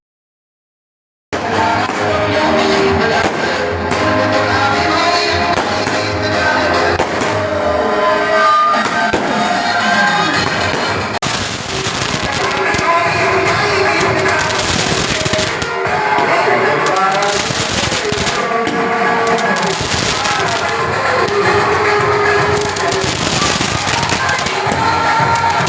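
Firecrackers burst at a night-time Ambedkar Jayanti celebration, a dense run of crackling pops and bangs that keeps going under a noisy, cheering crowd.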